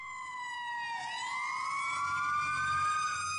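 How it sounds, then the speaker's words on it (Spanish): Emergency vehicle sirens wail loudly and continuously, the pitch dipping and then sweeping back up as the tone carries on alone without any talking. "escuché el estridente sonido de las sirenas de los servicios de emergencia"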